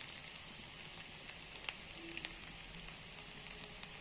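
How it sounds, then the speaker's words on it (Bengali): Onions fry in a pan for a masoor dal and egg dish, giving a soft, steady sizzle with scattered tiny pops, quiet and heard alone. "পেঁয়াজটা ভাজতে ভাজতে দেখো পেঁয়াজটা লাল হতে"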